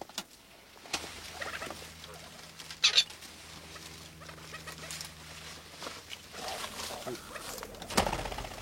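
Partridges in a wire-mesh enclosure give scattered calls and clucks over rustling and low background hum, with a louder burst of activity partway through.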